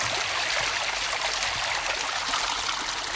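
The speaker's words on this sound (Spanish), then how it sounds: "Un hilo de agua justifica el llamado caudal ecológico." A thin trickle of water runs through a nearly dry river channel near Mula in Murcia, giving a steady, close, continuous hiss and babble with no breaks or voices.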